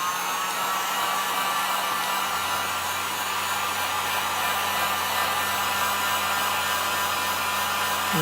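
A hair dryer blowing steadily on a chalk transfer over acrylic, a constant loud whooshing roar with a droning motor hum that holds unbroken throughout.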